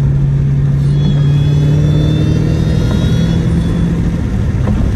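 A 900 HP Dodge Hellcat with a supercharger-style whine drives along a busy road on a hot, sunny day, its engine droning loud and steady with a thin high whine riding over the low rumble.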